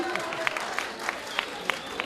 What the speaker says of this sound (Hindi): आप ताली बजा सकते हैं, ताली बजाओ।